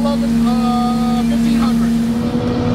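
A city street sweeper's engine runs at a steady, held speed of about 1,500 RPM, giving a close, continuous droning hum with no change in pitch throughout.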